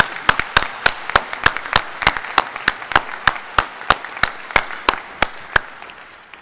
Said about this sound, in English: So let's have a round of applause for the provost.